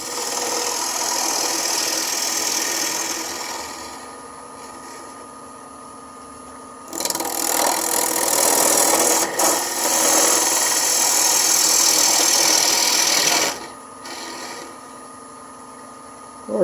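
A wood lathe spinning a twice-turned pedestal dish at about 1200 RPM, with a cutting tool taking steady cuts; a continuous hum and rasping scrape that swells loud in bursts, then drops back between cuts.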